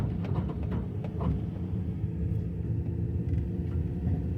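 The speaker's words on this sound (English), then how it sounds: "This van rides a lot tougher than that 2500 of ours does." Low rumbling road noise inside an extended 3500 heavy-duty work van riding over rough road, a steady close drone with faint knocks and rattles and no talking.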